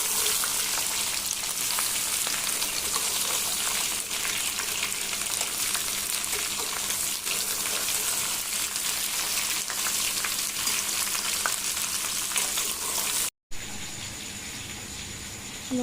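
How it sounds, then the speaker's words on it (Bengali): Raw mango pieces fry in hot oil with five-spice in a wok, making a loud, continuous close sizzle with occasional stirring that runs almost unbroken before a short cut to quieter sound. "এবার আমগুলো সব দিয়ে দেবো,"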